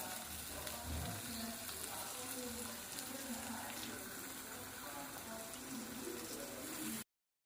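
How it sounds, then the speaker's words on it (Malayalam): Prawns fry in oil for a Kerala-style prawn roast, a soft, continuous sizzle with faint low murmurs underneath, fairly quiet and close, ending abruptly. "ഇനി ഇതിലേക്ക് നമുക്ക് ചെമ്മീൻ ഇട്ട് കൊടുക്കാം"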